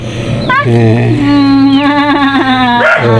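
A dog whimpers and yips in high, wavering whines right up close, loud and continuous, with a steady background hum.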